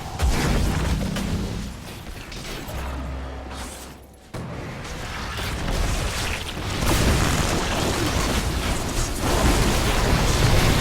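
Bomb from Kel'Thuzad exploding in Heroes of the Storm: a loud, dense boom and rumbling burst that briefly drops away, then swells back into a sustained roaring blast of game effects.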